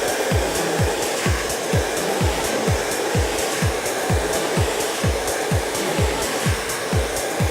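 A hair dryer blows steadily at close range while drying hair with a round brush, with a constant airy roar and a regular pulsing rhythm as the brush strokes pass through the airflow.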